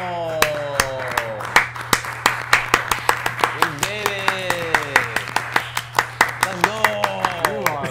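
Sharp, evenly spaced hand claps in a steady rhythm, close and loud, with someone talking and exclaiming over them in a Fortnite reaction setting.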